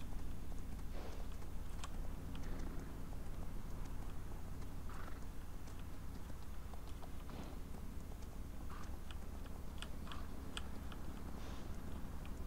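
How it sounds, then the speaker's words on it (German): Horse hooves clip-clop in Farming Simulator 19, a quiet, irregular series of light knocks over a steady low background hum. "Gutes Pferd, gutes Pferd."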